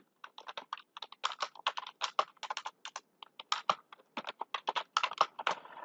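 Fast, irregular clicking of a computer keyboard being typed on, close and fairly quiet, with short bursts of keystrokes and brief pauses, no talking.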